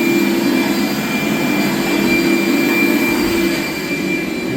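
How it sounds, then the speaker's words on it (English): A household vacuum cleaner runs during an electrical service call at a home, giving a loud, steady, continuous droning whir with a constant tonal hum, unbroken for the whole stretch with no voices over it. "she's gonna vacuum up, and we'll put the panel back together"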